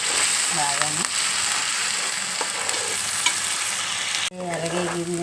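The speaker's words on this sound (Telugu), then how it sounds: "ఉల్లిపాయ ముద్ద వేస్తున్నాం. చూడండి, ఉల్లిపాయ ఎర్రగా వేయాలండి నూనెలోని బాగానే." Onion paste sizzles and fries in hot oil in a pan for a fish curry, a steady crackling hiss with a few stirring scrapes; a brief break near the end, then the frying resumes.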